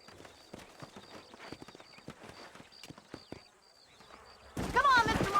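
Horses in the video game Red Dead Redemption, with steady clip-clopping hooves at a gallop, mid-distance, a tonal whine above them, and a loud noisy rush taking over at the end.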